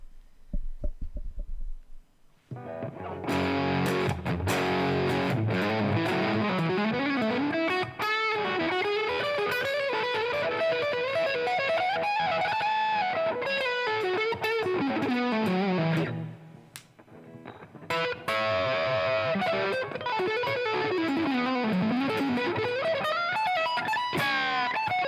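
An electric guitar played through a DOD Gonkulator distortion pedal, a gritty, sustained melodic line with bends and slides, loud and close, pausing briefly midway before continuing.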